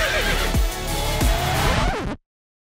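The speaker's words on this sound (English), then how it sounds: "This is a horse." A horse on a commercial film set gives a loud, close whinny with shaky, wavering pitch and a few snorting breaths, then stops abruptly into silence.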